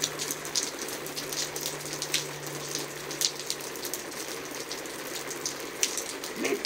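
Rain pattering steadily on a surface, a dense crackling hiss with scattered sharper drops and a low hum underneath, no talking.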